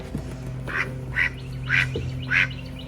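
A small fluffy duckling quacking four times at an even, unhurried pace, close and clear over a low steady background hum.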